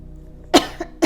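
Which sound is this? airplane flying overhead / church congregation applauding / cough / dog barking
cough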